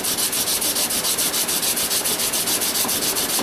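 Hand sanding the flat of a knife blade with fine sandpaper, loud close rhythmic strokes repeating at a quick, even pace, a steady back-and-forth rasp filling the whole stretch with no talking.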